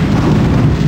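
Continuous heavy bombing in Half-Life: Source, a dense low rumbling roar of explosions filling the whole second with no clear gaps.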